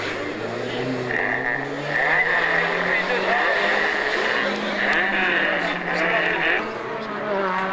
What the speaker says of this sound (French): la BMW 320 du groupe F pour le pilote des Montotans